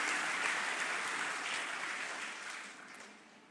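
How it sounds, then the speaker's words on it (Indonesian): A church congregation at GBI Lippo Cikarang claps in a broad, steady round of applause that slowly fades toward the end, with no voices over it. "Tepuk tangan paling meriah buat Tuhan Yesus."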